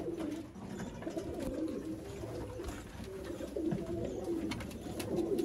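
Teddy pigeons coo softly and repeatedly, close by, against a steady background hum with no talking.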